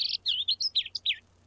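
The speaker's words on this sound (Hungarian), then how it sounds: "Végig tudtam, hogy egy madár az." A cartoon bird stuck in a chimney chirps in a quick run of about eight bright, high tweets, close and clear with nothing else over it.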